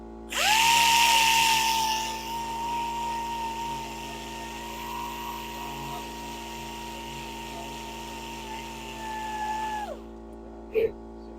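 A wood lathe spins while a spindle gouge hollows the piece, giving a loud, steady high-pitched whine that holds for about ten seconds before cutting off, followed by a brief knock.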